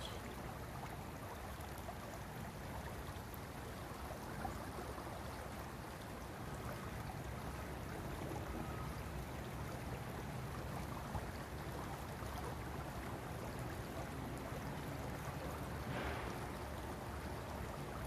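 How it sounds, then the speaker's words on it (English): A creek flows under a willow tree, giving a steady, even rush of water that stays faint and continuous throughout, with no voices. "the creek as it flows under the willow"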